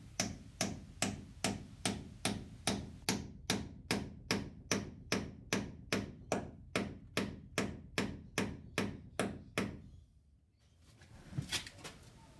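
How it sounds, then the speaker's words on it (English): A wooden stopwater is hammered into an undersized hole through a plank joint in carvel boat planking: more than twenty sharp, evenly spaced blows land close by, then a brief pause and a few final taps. "The stopwater is driven into the undersized hole through the joint. It must be a driving fit."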